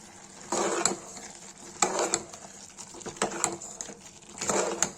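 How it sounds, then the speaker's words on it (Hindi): Tomatoes with red chili powder and turmeric being stirred in a pan for a pea and potato curry, a spoon scraping in several bursts of scratchy, sizzling strokes close up, with no talk. "टमाटर डाल के चला देंगे।"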